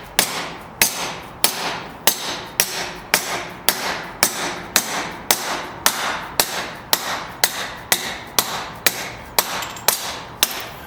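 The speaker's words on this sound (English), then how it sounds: "Let's see if we can just go ahead and tap it out." Steady hammer blows tapping a shaft out of a Dana 20 transfer case from a 1966-1977 Ford Bronco, about twenty sharp metallic strikes in an even rhythm, close and loud.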